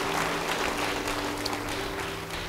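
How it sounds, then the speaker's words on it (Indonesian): Church congregation applauds during a sermon, a steady, moderately distant crowd of clapping hands with a low hum underneath, continuous for the whole stretch. "Yang setuju beri tepuk tangan bagi dia."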